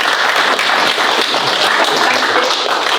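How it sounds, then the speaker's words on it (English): Wedding guests clapping for the ring bearer during a ceremony, a close, loud burst of dense applause sustained evenly without talk. "we'll give our ring bearer a round of applause"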